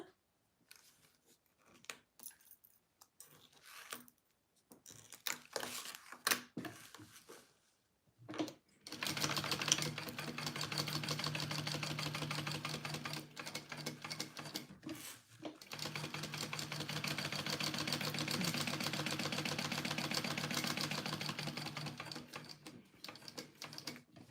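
A sewing machine bastes fabric for a Joey pouch. A few seconds of quiet handling and clicks come first, then the machine runs in a steady, close mechanical whir with a brief pause partway through.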